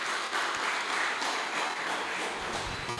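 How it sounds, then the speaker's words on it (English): A conference audience gives a dense, sustained round of applause, a continuous crowd-wide clapping wash that holds evenly at a steady level throughout. "please let's give him another round of applause"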